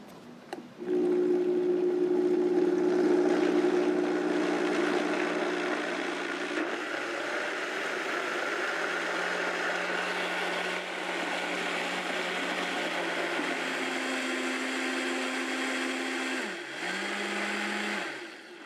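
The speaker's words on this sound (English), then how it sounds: "We're going to get this blended up." A blender whirs continuously and loudly blending beer cheese soup, its motor pitch dipping and shifting slightly as it churns, with no voices.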